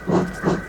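A steam engine pulling a train out of a station gives two rhythmic chuffs of hissing steam, close and steady.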